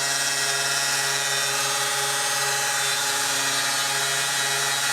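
A milling machine takes a final finishing pass through aluminum, giving a steady, loud, high-pitched cutting whine with tonal hum that holds evenly for the whole stretch.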